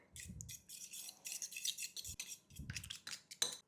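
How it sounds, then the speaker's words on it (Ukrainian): A fork stirs a mix of black pepper and a spoonful of lemon juice for a mayonnaise-free salad, making quick scraping and clinking bursts against the bowl, quiet and close, in short rhythmic strokes. "І видалочкою гарно все це замішуємо"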